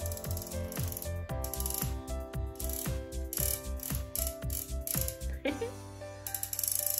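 The rotating base of an adjustable acrylic book stand turns with a rapid, even ratcheting click, close and clear, then settles into a smoother whir.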